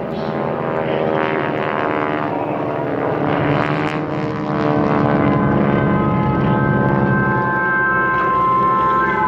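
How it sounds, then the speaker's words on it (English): A B-17 bomber passes over the Wings Over Houston airshow during a Tora Tora Tora reenactment, its piston engines and propellers producing a loud, steady, droning roar that swells slightly as it flies by. "The B-17s arrive,"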